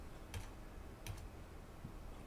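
A few faint, soft keystrokes on a computer keyboard, spaced out over a quiet background.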